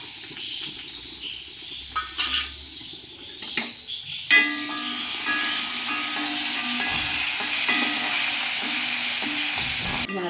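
Dried red chillies, shallots and curry leaves dropped into hot oil after mustard seeds have popped, for a jackfruit curry: a few clinks and stirs, then a sudden loud steady sizzle and crackle up close, no talk.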